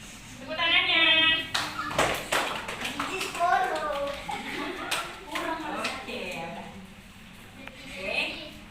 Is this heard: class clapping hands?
yes